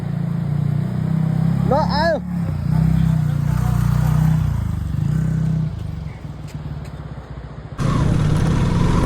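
A motorcycle engine drones at a steady low pitch under close talk while riding the badly broken Karpudada road, with brief clatters and rougher bursts as the bike picks its way over the damaged surface.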